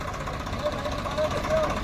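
A Swaraj tractor engine idles steadily, a low continuous rumble running under people talking nearby.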